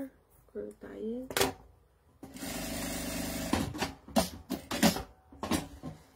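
Domestic sewing machine stitching a fabric lining, running in a steady whir for about a second and a half, with short bursts and handling clicks around it and a voice talking between runs.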